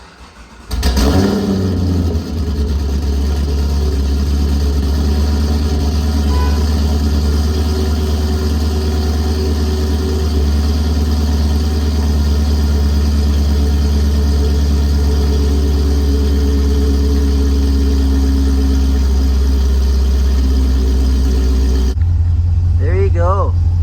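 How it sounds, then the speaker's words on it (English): A C6 Corvette fitted with a carbon fibre steering wheel idles steadily after starting up, its deep, constant rumble filling the whole stretch with little change in pitch. "Car is running."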